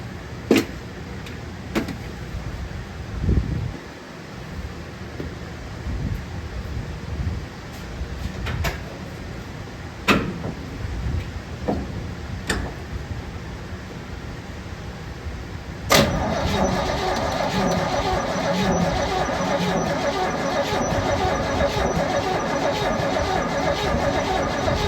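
A 1972 Chevrolet C10 pickup engine being checked with a new fuel pump: scattered clicks and clunks over a steady hum, then a sustained cranking drone sets in partway through, nearby and unbroken to the end.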